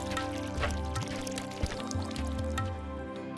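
Water poured by a kind hermit to refill animals' drinking troughs, a steady splashing pour with drips running throughout, over a low background hum.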